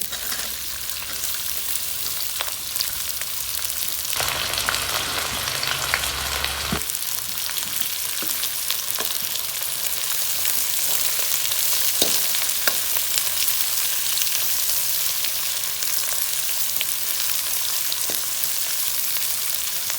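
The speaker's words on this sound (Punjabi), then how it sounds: "ਪਿਆਜ਼ਾਂ ਨੂੰ ਆਪਾਂ ਬ੍ਰਾਊਨ ਹੋਣ ਤੱਕ ਭੁੰਨਾਂਗੇ" Long sliced onions fry steadily in hot oil with cumin in a kadai, a loud continuous sizzle with occasional stirring scrapes and crackles throughout, and no voices.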